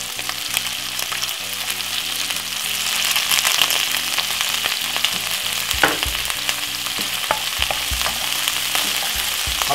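King jumbo prawns fry in a pan over medium heat, a loud, close, continuous sizzle with occasional stirring knocks and no talk.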